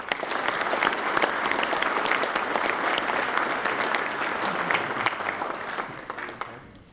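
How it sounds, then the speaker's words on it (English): Applause from a symposium audience fills the room, steady dense clapping that holds for several seconds and then tapers off at the end, with no voices over it. "I'd like to give them a round of applause"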